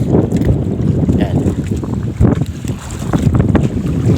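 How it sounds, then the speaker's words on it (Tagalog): Strong wind buffeting a small fishing boat at sea, a loud continuous roar with gusty rumbling and microphone buffeting, plus faint knocks and a voice in the background. "Lumalakas ng hangin."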